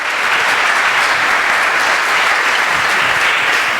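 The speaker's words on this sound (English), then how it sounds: "you can clap for that" Dense, loud audience applause at a marching band concert, a continuous roar of many hands clapping at an even level for the whole stretch, with no talking above it.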